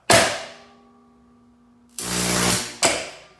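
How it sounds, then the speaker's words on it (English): High-voltage arcs from a 14.4 kV, 15 kVA transformer: a sharp loud crack with a ringing decay, then a sustained harsh buzzing arc about half a second long that ends in another sudden snap. "show the intensity and the severity of these high voltage arcs with high current"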